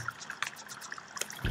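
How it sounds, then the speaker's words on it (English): Lava pouring in Minecraft makes a soft, faint liquid trickle with a few light drips and pops over a second and a half, then a low rumble swells at the end. "It pours. The lava pours."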